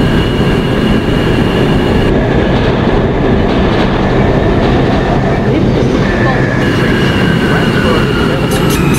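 An eastbound New York 4 subway train in the OpenBVE simulator, loud continuous rumble and wheel clatter with steady tonal whine, a voice speaking over it.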